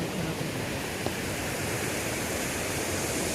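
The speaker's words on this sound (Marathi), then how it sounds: "तर हा जो स्पॉट आहे इथे आता वॉटरफॉल होता आहे मोठा." A large waterfall in Olympic National Park roars steadily and loudly, a dense unbroken rush of falling water filling the whole span with no pauses.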